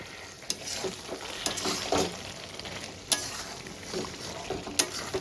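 Butter chicken masala curry is stirred in a pan, with soft scattered scrapes and knocks of the spoon over a low, quiet sizzle.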